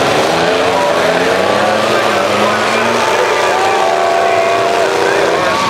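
Big trucks race in a county fair truck derby at the Portage County Fair, their engines roaring loudly and continuously as they rev and accelerate around the track.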